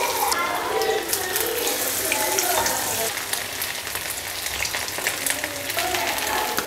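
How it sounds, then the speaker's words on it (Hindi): Potato cheese rolls fry in hot oil with a dense, continuous crackling sizzle, close and steady from start to finish. "कितना ही ज़बरदस्त फ्राई हुआ है हमारा रोल"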